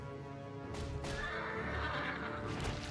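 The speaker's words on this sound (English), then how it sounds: "I like these pack horses." Pack horses neighing in the real-time strategy game Warcraft III, a loud drawn-out whinny rising over busy battle noise with hoof-like clopping, close and alone with no talk.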